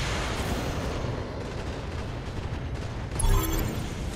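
Mech weapons firing in the BattleTech game, a continuous rumbling barrage of heavy shots, with a louder impact burst near the end.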